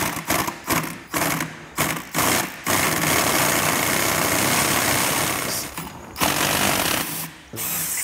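An impact wrench hammers loose the clutch nut on an original 1978 Vespa P200E engine, with several short rattling bursts, then a long sustained buzzing run, close and loud.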